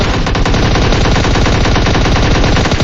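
Loud, sustained automatic gunfire from the battle royale game PUBG Mobile, rapid shots hammering almost without pause across the whole stretch and no voices over it.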